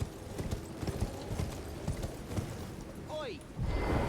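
Horse hooves clip-clop in a steady galloping rhythm while riding in the video game Elden Ring, mixed with game ambience and a brief rising whinny-like call near the end.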